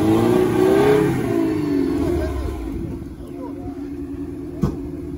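An off-road racing car built from a UAZ, at a trophy-sprint event, starts and revs its engine in a steady mid-range drone with rising harmonics, under continuous crowd talk, followed by a single sharp knock near the end.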